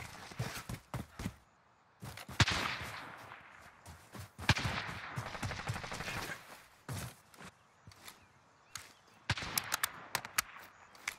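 Gunfire in Call of Duty: Modern Warfare, sharp cracks and short bursts in uneven clusters, some near and loud, others fainter, separated by brief quiet gaps.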